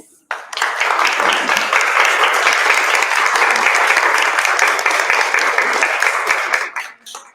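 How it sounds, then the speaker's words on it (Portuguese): Sustained applause from an audience, dense and steady clapping that swells quickly, holds for several seconds, then tapers off at the end. "Eu gostaria de pedir uma última salva de palmas."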